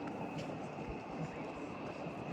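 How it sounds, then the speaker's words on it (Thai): Rack tram descending Mount Pilatus in Switzerland gives a steady, dense rumble with low clunks, close and continuous throughout, no talk heard. "อันนี้คือรถรางกำลังลงไปนะทุกคน"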